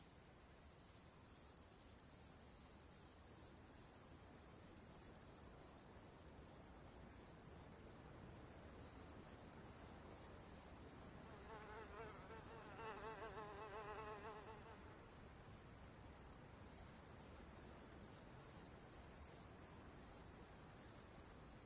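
Constant insect chorus of cicadas and crickets in the DayZ game world, a dense high buzzing drone with steady chirping throughout and a brief rising trill layered in midway; no talk.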